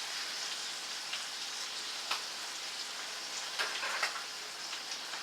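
Food crackles and pops in hot fat in a pan, a steady dense sizzle with sharper snaps scattered throughout, close and continuous.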